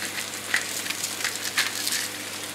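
Tomato frying in a pan over medium heat gives a steady, close sizzle with scattered small pops and crackles throughout, with no voices.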